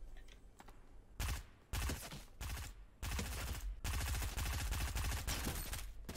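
Gunfire in Fortnite, sharp bursts of rapid automatic shots separated by brief gaps, growing into long sustained strings of fire toward the end, loud and close.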